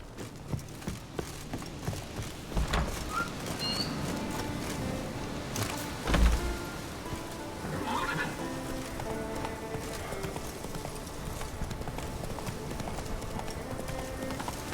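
Roach the horse galloping in The Witcher 3, a steady run of hoofbeats clip-clopping over continuous game background sound, with a louder thump partway through.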